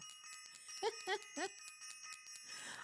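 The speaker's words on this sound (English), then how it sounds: "I'm ringing the bell for you." A small bell rings a few times in quick succession, bright and close, over a faint background hum.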